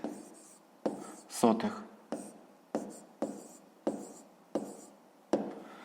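Pen strokes on paper as fifth-grade math answers are written by hand, a series of short scratchy bursts at a steady rhythm, close and soft, with a quiet voice speaking between them.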